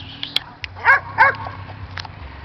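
A dog on a road at night gives two short, sharp yipping barks close by, with faint rumbling of a moving vehicle and scattered clicks around them.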